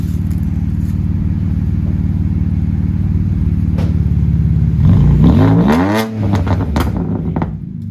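A 2006 BMW 335xi engine with a loud exhaust idles with a deep rumble, then revs up sharply and drops back, close and loud.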